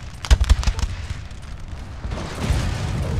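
Musket volleys in Napoleon: Total War, a cluster of sharp cracks in the first second followed by a sustained rumble of distant fire that builds again near the end.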